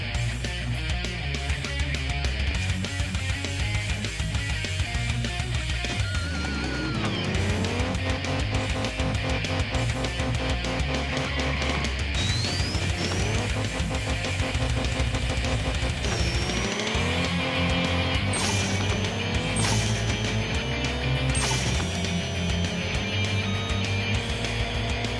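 Race car engine in a drag racing video game, a Nissan Silvia S15 among the cars, droning and rising in pitch through repeated gear shifts, loud and steady with music-like layers underneath.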